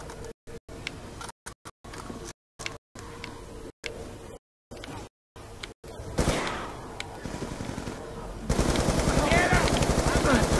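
Rapid machine-gun bursts and gunshots fill a round of Call of Duty zombies on the Mob of the Dead map, choppy at first and becoming continuous, dense firing near the end.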